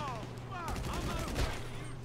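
Gunshots in GTA V ring out in a quick flurry of cracks and pops amid engine noise and ambient game sounds, with a heavier thump near the end.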